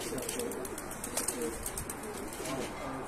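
Soft cooing of red pigeons with a few chirps over a steady outdoor hum at midday, fairly quiet and continuous.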